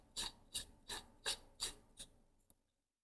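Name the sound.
screwing lightsaber handle back on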